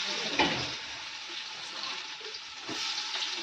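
Garlic and chopped onion sizzling in very hot oil in a pot in a village temple kitchen, a steady, close, dense crackle with brief louder spatters and no talking over it.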